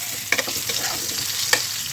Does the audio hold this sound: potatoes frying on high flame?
yes